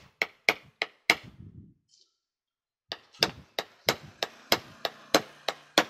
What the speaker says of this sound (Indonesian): Caranya adalah dipukul ya, dipukul seperti tadi. Usahakan pakai obeng yang kuat ya.